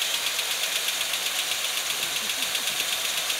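The starter cranks a 1962 Ford Fairlane 200ci engine with a freshly rebuilt, valve-jobbed head, a loud, close, rhythmic churning that pulses evenly without the engine catching.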